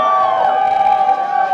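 A loud crowd cheers and whoops at a Pure FC mixed martial arts event, a sustained roar of voices filling the whole clip.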